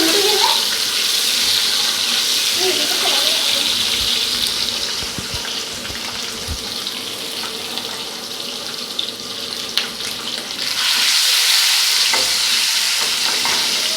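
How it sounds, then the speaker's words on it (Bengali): Boiled eggs are stirred and fried in a pan for a spicy tomato egg curry, giving a loud steady sizzle with scraping stirs and occasional knocks, the hiss dipping midway and surging again near the end. "ডিমগুলাকে একদম নাড়ি চাড়ি সুন্দর করে ভাজি নিচ্ছি।"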